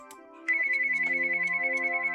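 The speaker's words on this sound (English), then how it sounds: "The phone kept ringing, the sound shrill and unpleasant" A telephone rings with a shrill, sustained electronic tone that pulses rapidly and evenly, starting abruptly after a brief quieter moment and continuing alone.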